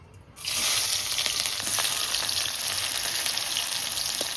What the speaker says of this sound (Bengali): তেল গরম হয়ে গেছে, দিয়ে দিচ্ছি পেঁয়াজ কুচি